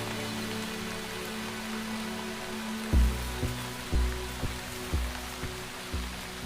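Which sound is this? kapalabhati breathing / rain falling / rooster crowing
rain falling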